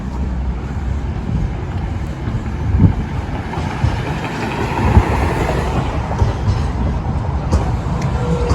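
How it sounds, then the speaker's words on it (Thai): A tram rumbles past on a street in Łódź, Poland, a loud steady rolling drone with occasional metallic clicks and clunks as it passes close by. "ยังมีรถรางอยู่"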